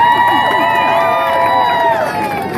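A crowd at a Tacoma rally in solidarity with Selma cheers loudly, many voices whooping and yelling together in a dense, sustained roar that holds for the whole moment.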